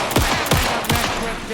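Gunfire rings out in the Alan Wake 2 video game as three heavy, booming shots roughly a third of a second apart, loud and close, each trailing into a reverberant tail.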